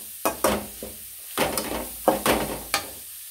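Carrot pieces sauté in oil for a simple carrot poriyal, with a soft sizzle beneath several sharp scraping strokes and clacks of a spoon against the pan, close and uneven.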